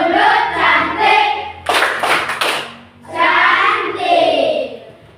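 A group of children clap in a clapping game, with three quick bursts of claps sitting between stretches of loud group chanting.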